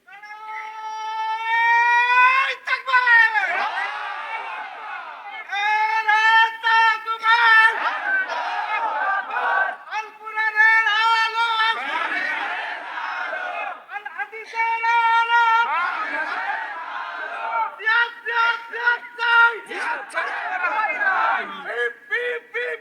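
A crowd at a Bengali Islamic religious gathering chants takbir, Allahu Akbar, in loud, rhythmic bursts of massed voices separated by short pauses, repeating across the whole stretch.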